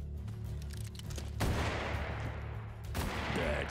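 Gunfire in the Hard West II video game: two heavy, rumbling shot bursts with long reverberant tails, one after the other, over a soft background with faint game ambience.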